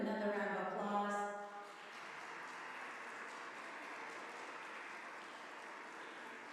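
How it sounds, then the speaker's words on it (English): Audience applause for the Lowell Chamber Orchestra at a Celebrate Giving benefit evening, a steady wash of many hands clapping that holds at a moderate level throughout, slightly fuller at the start. "Can we give them another round of applause?"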